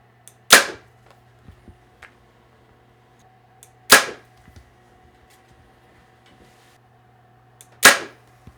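Three sharp thwacks of a Hoyt RX-9 compound bow releasing arrows, spaced a few seconds apart, each a crisp snap with brief ring, over a low steady hum.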